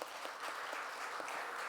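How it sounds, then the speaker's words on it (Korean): Applause from a church congregation at a Sunday worship service in Korea, welcoming a newly baptized infant, a short steady patter of many hands clapping at moderate distance with no talk. "환영한다고 이서를 박수 한번 하겠습니다"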